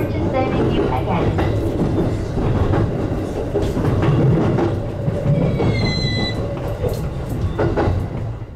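A JR E531 series train runs on the Tohoku Main Line, heard from inside as a steady, loud rolling rumble with rhythmic wheel clatter and a brief high squeal partway through.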